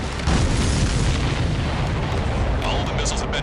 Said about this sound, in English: All the missiles have been destroyed.